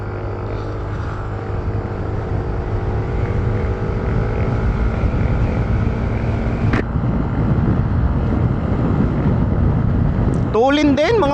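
A Yamaha Mio Gear S scooter engine winds up during an acceleration run, a steady droning whine rising in pitch with wind buffeting the microphone, and a brief sharp chirp near the end.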